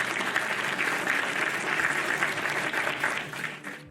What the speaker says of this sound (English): So we give him a round of applause.